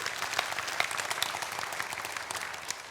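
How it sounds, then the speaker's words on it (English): A church congregation applauds during a service, a moderately quiet but steady patter of many hands clapping, with a few sharper individual claps standing out across three seconds. "you can applaud that"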